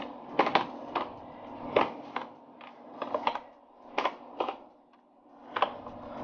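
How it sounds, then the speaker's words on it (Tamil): Someone types the word Windows into a search box on a computer keyboard, producing a series of close, crisp key clicks in uneven bursts with short pauses between them and no talking. "இப்போ நான் விண்டோஸ் ஃபஸ்ட்டு டைப் பண்ணுறேன்."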